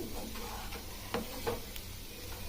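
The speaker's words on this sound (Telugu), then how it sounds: "ఆయిల్లో మసాలా అంతా బాగా పట్టేట్లాగా కవర్ అయ్యేట్లాగా కొబ్బరిని మనం కలుపుకొని పెట్టుకోవాలి" Raw grated coconut being stirred into masala and oil in a pan for coconut curry gives soft scraping strokes at an irregular pace over a steady low sizzle, quiet and close, with a couple of sharper knocks and no one speaking.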